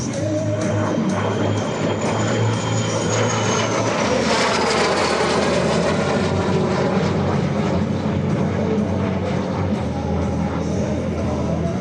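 A MiG-17 jet fighter roars past during an air show demonstration, a loud, sustained jet rumble with a sweeping pitch shift as it passes overhead, filling the air without speech.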